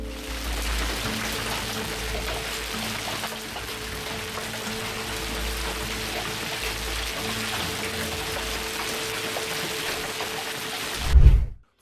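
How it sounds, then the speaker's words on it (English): Large spiky hailstones from a sudden hailstorm in Japan pound a roof in a dense, continuous roar of impacts, loud and steady throughout, ending with a brief louder thump. "Some videos of the incident captured the shocking effects of the occurring hailstorm, which almost sounded like one roof was taking heavy machine gun fire."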